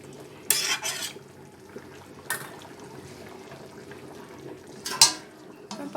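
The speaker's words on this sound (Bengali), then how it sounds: "ভালোভাবে তরকারিটাকে নেড়ে দিচ্ছি।" Prawn, ridge gourd and potato curry stirred in a pan, with a few bursts of spoon scraping against the metal and soft wet shuffling between them, close by with no talking.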